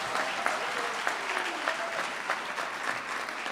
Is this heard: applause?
yes